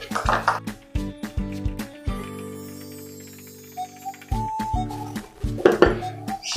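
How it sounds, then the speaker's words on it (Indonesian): A spoon stirs water in a glass during a simple acid-base chemistry experiment, giving a series of close, bright clinks and taps in irregular bursts with a ringing pause midway. "Lalu kita tambahkan air. Kita aduk."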